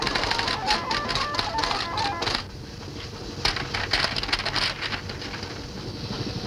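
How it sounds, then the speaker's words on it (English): Rapid clattering keystrokes of an automatic vocal typewriter in a science-fiction radio drama, a dense mechanical patter that pauses briefly midway and then resumes, fairly loud and alone. "the tape was played back directly into the automatic vocal typewriter and translated into symbols."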